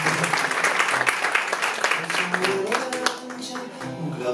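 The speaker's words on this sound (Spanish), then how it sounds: "Fuerte el aplauso para..." An audience at a tribute concert applauds warmly, a dense patter of clapping that thins after a few seconds as tonal sound begins to come through.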